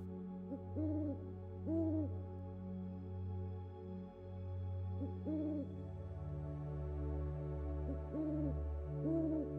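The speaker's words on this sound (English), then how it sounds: "you hear the sounds of an owl in the distance, welcoming you." An owl hoots from far off in a forest at night, giving repeated paired calls in slow intervals over a low, steady ambient hum.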